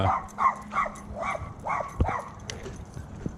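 A small dog yips from a camper at a campground, in a quick run of about six sharp barks, fairly close, then a thud and quieter rustling follow.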